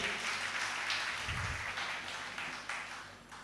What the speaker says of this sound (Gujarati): ફરી જોરદાર તાળીઓથી આપણે વધાવીએ